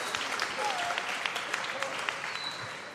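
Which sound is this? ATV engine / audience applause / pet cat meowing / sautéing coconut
audience applause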